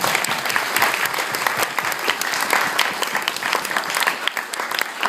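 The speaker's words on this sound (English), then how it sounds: "Please give me a round of applause." A crowd applauds steadily for several seconds, many hands clapping in a dense, even roar with no voices over it.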